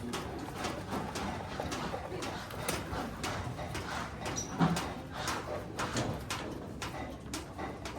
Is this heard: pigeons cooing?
yes